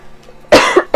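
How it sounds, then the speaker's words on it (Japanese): A person coughs sharply twice, close and loud, the first cough longer and rougher and the second short, after a brief quiet stretch. "ちょっと咳が出た"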